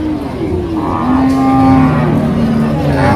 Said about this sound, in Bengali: প্রচুর বকনা গরু উঠে এই হাটে কাইতলা হাটে